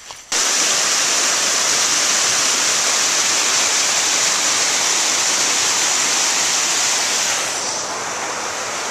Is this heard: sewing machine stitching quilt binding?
no